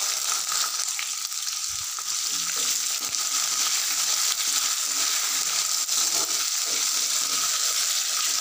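Halved green chillies sizzle steadily in hot oil with cumin, a continuous crackling fry heard close and alone, with a few faint stirring knocks.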